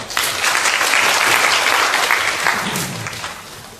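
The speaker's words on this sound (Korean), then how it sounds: "모두 박수로 맞이해주시기 바랍니다." A forum audience claps to welcome a presenter, the applause swelling quickly into a full, even patter of many hands before gradually thinning and fading out over a few seconds.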